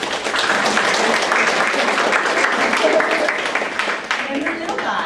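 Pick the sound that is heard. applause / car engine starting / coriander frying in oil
applause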